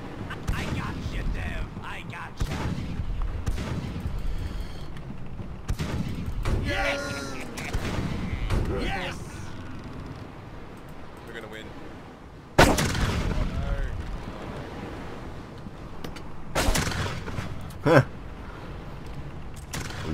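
Ship cannons firing in the naval game Blackwake: repeated loud booming blasts spaced every few seconds, with sharper cracks of gunfire between them, while a player talks throughout.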